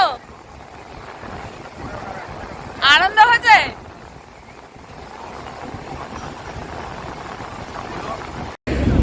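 Wind buffets the microphone at Puri beach on the sea, with the dull roar of waves beneath it and a brief burst of excited speech partway through.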